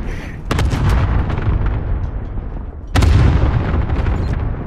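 Two heavy rocket explosions in Call of Duty: Modern Warfare boom in quick succession, each a sharp blast followed by a rumbling decay amid ongoing battle noise.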